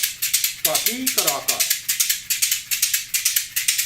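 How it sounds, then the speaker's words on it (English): Small basket shakers rattle in a steady, quick rhythmic pattern, with crisp, evenly spaced strokes. A short stretch of talk cuts in near the start, then the shaking continues alone. "These are small little basket shakers"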